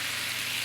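A hot pan sizzles hard as red wine goes in to deglaze it over cooked red onion and shallot, a loud, continuous hissing crackle close by, with no talking.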